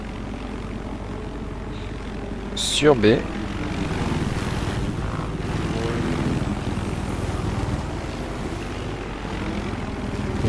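A helicopter in a video game match drones steadily with rotor chop, and a sharp whooshing burst passes early on, while someone talks over the action in French.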